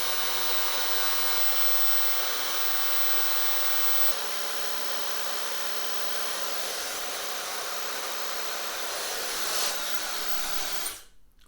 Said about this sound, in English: just go in with the diffuser against my hand all the way around the mid-length section